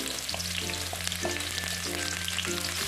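Shallots and garlic fry in a pan, a steady close sizzle with soft stirring scrapes, heard alone under a low background hum and no talk.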